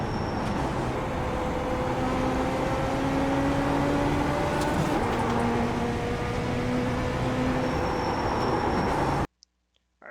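Race car engine from the iRacing game's Rookie Legends car at Lanier National Speedway, a steady loud drone with rising gear tones through the turns, then cutting off abruptly near the end.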